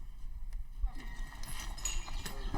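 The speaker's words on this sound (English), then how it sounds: "Randy Hook saddled up his horse to join hundreds of other marchers in Compton, California." A saddled horse clip-clops along in a street march in Compton, California, its hoof beats steady and moderately close, mixed with crowd noise and heard under a narrator's voice.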